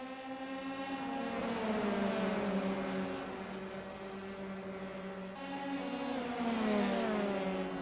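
Race cars on a circuit during a racing school championship round, engines droning loud and steady with rising and falling pitch sweeps as several cars battle closely through the first lap.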